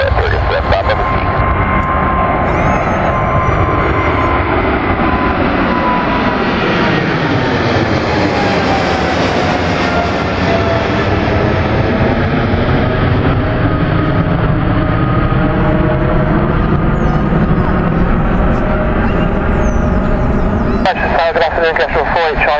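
A heavy jet airliner, such as a Boeing 777 or 767, takes off at Manchester Airport with a loud, sustained engine roar whose whine rises and sweeps in pitch as it passes, over radio chatter.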